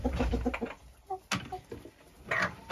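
Laying hens fed by hand in a backyard coop, clucking in a quiet run of short soft calls with a few sharper bursts, close by and fairly faint, with no one talking.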